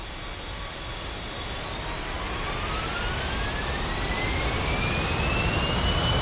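A-10C twin jet engines in the DCS flight simulator spool up for takeoff. A steady roar builds in loudness while a high whine glides upward, with no talk.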